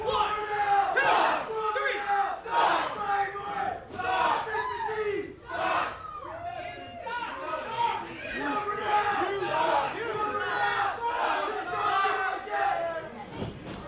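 Wrestling crowd at a Monster Factory Pro Wrestling match, cheering and chanting in loud rhythmic bursts that rise and fall throughout, a full arena of voices shouting together.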